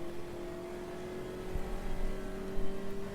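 A Puma car engine in the AMS2 racing game holds a steady, close drone at high revs through a slipstream, with a small rise in loudness toward the end.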